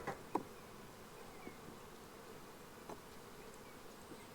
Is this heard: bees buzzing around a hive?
yes